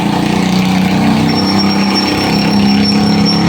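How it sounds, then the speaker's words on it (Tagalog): Loud, steady motorcycle engine drone running continuously at close range, a rough throbbing hum with a faint high whine. "grabe ang ingay ng motor, parang barko na"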